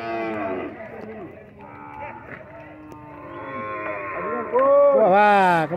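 Cattle at a livestock fair in Cipó, Bahia, moo repeatedly, several long drawn-out lows overlapping close by, building to a loud, strained call near the end amid crowd murmur and voices.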